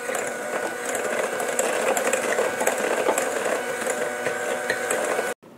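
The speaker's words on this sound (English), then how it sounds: "we're going to use an electric mixer to mix it until it's really well combined" An electric mixer whirs steadily through a bowl of olive oil and brown sugar, a close buzzing hum that holds constant before cutting off abruptly near the end.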